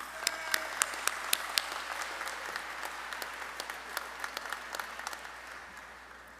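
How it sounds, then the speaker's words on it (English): A crowd at a 2025 community college commencement ceremony claps. It opens with a few sharp, distinct claps that swell into moderate applause, then thins and fades over several seconds, somewhat distant in a large hall. "Please join me in giving them a well-deserved round of applause."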